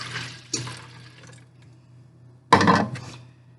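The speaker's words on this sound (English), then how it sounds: "going to pour that into my juice." Soda is poured into fruit juice for a fizzy party punch, giving a soft splash followed by a louder, sustained liquid gush near the end.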